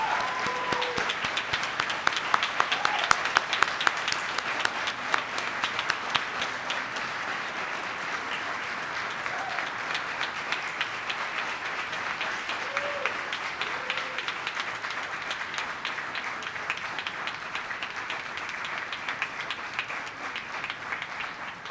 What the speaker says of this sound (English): please give an applause for the 29th Anniversary Gala